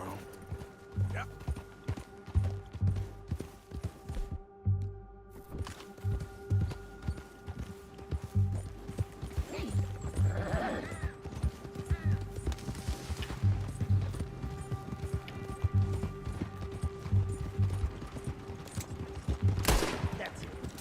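Horse hooves clip-clopping at a steady galloping rhythm in Red Dead Redemption 2, mixed with bursts of gunfire and game ambience, with someone talking over it.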